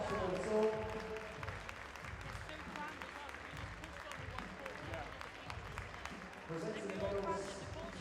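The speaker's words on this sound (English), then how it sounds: "Please give a massive round of applause" An arena crowd at a wheelchair basketball championship final in Nottingham applauds the match officials, with a steady, moderately distant wash of clapping and a hall echo, plus a brief voice near the start.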